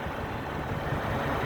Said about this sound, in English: we're standing right next to the idling truck.